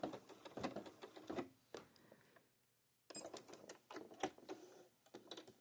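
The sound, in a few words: sewing machine back stitching to tie off the binding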